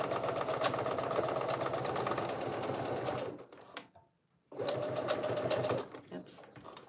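A sewing machine stitching a seam on a knit tee, a fast steady mechanical whir that stops briefly, then restarts for another short run, with a voice faintly present.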